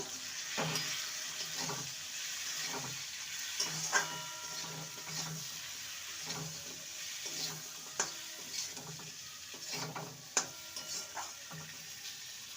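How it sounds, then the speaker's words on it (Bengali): Drumsticks, potato and tomato being stirred in a pan, with a soft sizzle under repeated scraping strokes of a spoon, fairly quiet and close, in an even rhythm with occasional sharper clinks. "টমেটো আর ডাটা দিয়ে দুই থেকে তিন মিনিট ভালো করে নেড়ে নিয়েছি"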